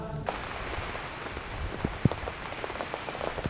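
Rain falling near Ein Gedi by the Dead Sea, a steady close hiss of drops on surfaces with a few louder individual drips, no voices.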